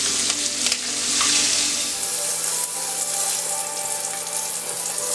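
Cajun shrimp searing in a hot pan give a loud, steady sizzle with occasional stirring and scraping, close up.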